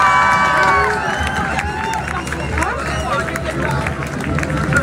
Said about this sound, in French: Applaudissements pour la prochaine personne